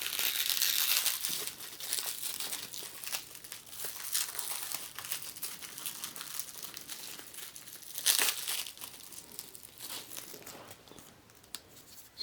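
Close crinkling and tearing of plastic blister packaging as a Bakugan BakuTech toy is cut out of its package, with irregular rustling bursts and a sharper rip near the middle.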